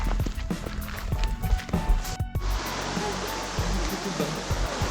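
A small waterfall on the way to Bakota, heard as a steady, broadband rush of falling water that grows fuller and louder after a brief jumble of nearby knocks and movement.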